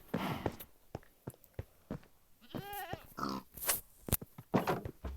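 A Minecraft pig oinks and grunts in short bursts, with several separate squeals and snorts close by and nobody speaking.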